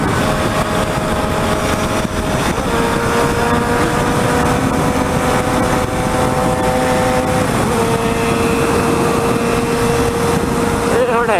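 A carbureted Honda Hornet motorcycle engine drones loud and steady, its pitch holding and then shifting as it passes, with a broad roar that lasts the whole stretch.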